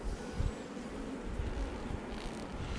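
A low, steady drone of buzzing insects like bees fills the air, faint and continuous, with a few soft bumps.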